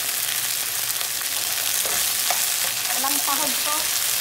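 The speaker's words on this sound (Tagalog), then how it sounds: "Nagisa ako ng okra." Sliced okra stir-fries in a pan with a loud, continuous sizzle, and stirring adds scraping and a few light clinks near the end.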